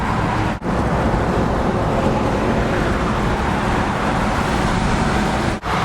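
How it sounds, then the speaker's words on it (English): Steady road and traffic rumble heard from inside a V8-swapped Isuzu Trooper with a Lexus 4.0L 1UZ-FE engine, crawling through stop-and-go rush hour freeway traffic, a continuous broadband drone with no talking. "So we're in our stop and go rush hour traffic."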